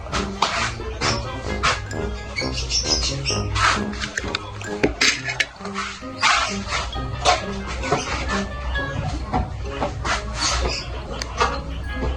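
A dog whimpers and yips repeatedly near the microphone at feeding time, mixed with clattering of dishes and bowls and some brief talking in the background.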